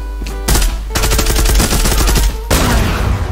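Explosions and gunfire crackle in the online shooter game Zula, loud and close, as several dense bursts with brief gaps between them and no talk over them.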